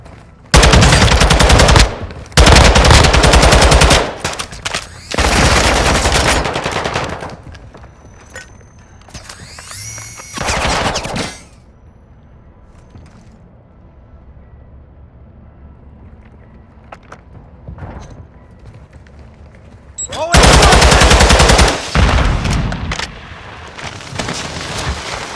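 Automatic gunfire in Call of Duty Modern Warfare II DMZ: several loud, close bursts of rapid shots, with quieter stretches of mechanical clatter between them and a final heavy burst near the end.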